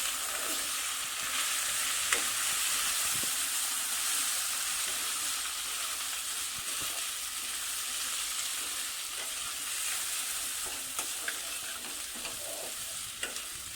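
Cashews, raisins and turmeric frying in a pan give a constant crackling sizzle, with occasional spatula scrapes and taps as they are stirred; no one speaks.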